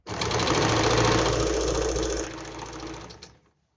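Close, loud sewing machine runs in one continuous burst, stitching stretched elastic into the waistband of heavy-size palazzo pants, then winds down and stops.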